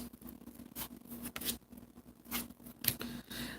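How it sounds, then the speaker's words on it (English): Tarot cards being pulled and shuffled from a deck during a live reading: soft papery swishes and scrapes in irregular bursts, close and fairly quiet, with no talking. "I'm gonna pull some other cards."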